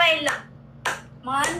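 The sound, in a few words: hand clapping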